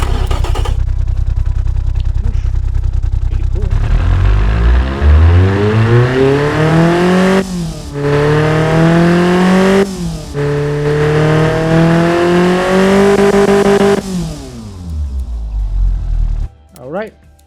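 A Nissan KA24DE four-cylinder engine fitted with an aftermarket exhaust cranks, catches and idles, then revs up repeatedly in long rising and falling sweeps. It is loud and close, with brief pauses between the revs, and it settles before cutting off at the end.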